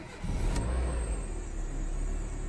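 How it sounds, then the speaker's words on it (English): A Renault Modus car engine starts and runs loud and close with a steady rumble, a brief burst at the start settling into an even idle. "Let's gonna start the engine."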